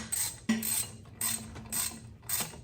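A wrench turns bolts on the water pump of a 2018 Mustang, giving several short ratcheting bursts in an uneven rhythm, close and fairly quiet with no voices.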